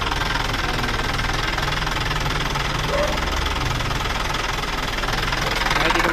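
A steady Isuzu 6HH1 diesel engine idles close by, hot, with a persistent rhythmic injection pump knocking running through it, constant and fairly loud, with no talking.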